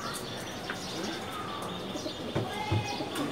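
Pigeons in a racing pigeon loft give soft, low cooing calls with light wing flutters, faint and close against a busy background while people talk.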